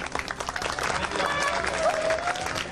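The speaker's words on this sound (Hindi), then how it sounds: "इसके लिए तालियां नहीं बजाएंगे भाई?" An audience breaks into applause, a moderate steady clapping with crowd murmur and voices mixed in, continuing throughout.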